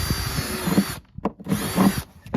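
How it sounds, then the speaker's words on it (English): A power drill bores a hole through a plastic bucket for an ice-fishing bucket set, whining loudly in two bursts with a short pause between and a brief winding down and restart. "So just drill a hole."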